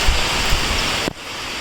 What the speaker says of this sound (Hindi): और यहाँ पर बारिश लगना स्टार्ट हो गई।